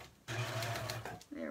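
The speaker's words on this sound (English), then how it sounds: "Lower the presser foot and then we'll sew." A serger sewing machine runs briefly while stitching a flatlock seam with water-soluble stabilizer on the top layer, a steady close mechanical whir with a voice talking over it.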